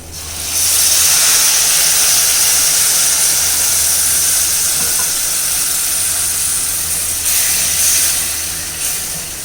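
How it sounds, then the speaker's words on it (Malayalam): Half a cup of hot water poured into dry frying masala for egg biryani gravy, bursting into a loud, continuous steamy hiss and sizzle that holds steady and swells again before easing off; no talking. "ഇതിലേക്ക് നമുക്ക് ഗ്രേവിക്ക് വേണ്ടി കുറച്ച് ചൂടുവെള്ളം ഒഴിച്ചു കൊടുക്കാം. ഒരു 1/2 കപ്പ് ചൂടുവെള്ളം."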